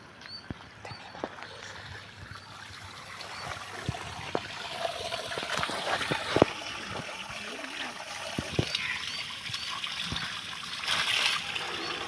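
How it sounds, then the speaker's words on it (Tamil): Water gushes and splashes forcefully from the pipe of a solar-powered borewell pump set 100 feet down a 150-foot borewell, a continuous rushing spatter with scattered clicks and knocks throughout. "தண்ணி நல்லா ஃபோர்ஸாக வருது"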